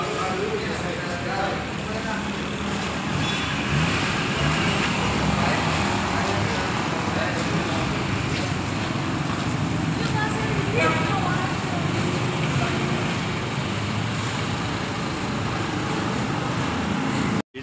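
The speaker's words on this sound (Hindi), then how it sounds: "ये जी ड्राइव भी गया उस्ताद" A car out on a test drive after workshop repairs, with steady loud road and engine noise throughout and people talking over it.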